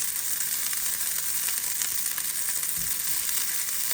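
A bean burger fries in a pan with a little oil, giving a steady, dense, close sizzle that holds evenly throughout with no talking.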